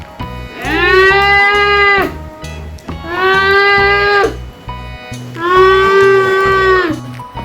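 A young child imitating a cow's moo, three long drawn-out calls with pauses between, loud and close over a steady low background rhythm.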